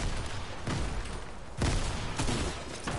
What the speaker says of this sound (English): They're throwing grenades at you.